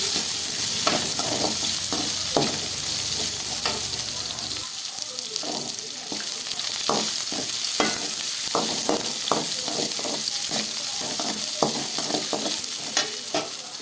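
Onions fry in a pan for a mango curry, a continuous close sizzle with scraping stirs of a spoon against the pan, repeated irregularly throughout.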